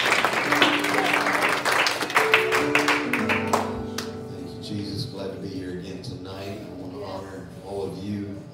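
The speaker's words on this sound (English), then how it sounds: "Let's give him a hand clap and give the Lord a hand clap of praise as he comes tonight" Congregation hand clapping in praise at a church service, a burst of claps in the first few seconds that gives way to organ-like tones and talking.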